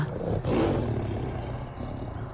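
A deep, rumbling tiger roar that swells and then trails off into a sustained low growl.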